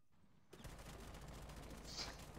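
Video game gunfire: a sustained, fairly distant volley of rapid shots beginning abruptly after a quiet moment and continuing steadily, with a sharper burst near the end.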